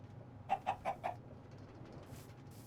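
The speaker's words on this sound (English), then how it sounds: "Come over here, chicken." A Minecraft chicken gives four quick clucks in a row, soft and a little distant, then the game goes quiet apart from faint background noise.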